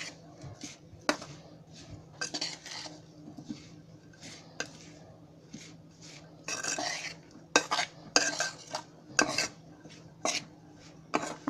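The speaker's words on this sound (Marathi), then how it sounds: "आता हे सर्व आहे ना हे असं मिक्स करते." Spring onion leaves, gram flour and turmeric mixed together by hand in a bowl for Marathi jhunka, with soft scraping and stirring plus scattered sharp clinks of a spoon against the bowl, close and fairly quiet.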